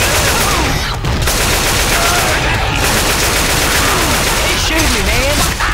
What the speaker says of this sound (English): He's shooting me, man.